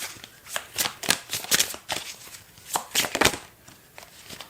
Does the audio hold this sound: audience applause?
no